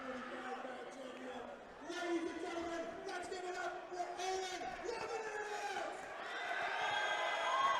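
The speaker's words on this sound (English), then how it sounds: "Oh man, he's got his crowd. He's got everybody amped up." An arena crowd at a cage fight roars and cheers for a fighter's entrance, a dense, sustained wash of shouting that swells louder toward the end, with voices talking over it.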